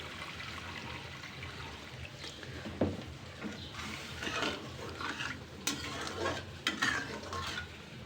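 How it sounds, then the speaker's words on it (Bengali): Broth is added to a curry cooking in a pan and stirred, giving a soft bubbling simmer with a few spoon scrapes and knocks, fairly quiet and continuous. "আমি এখন ঝোল দিয়ে দিব।"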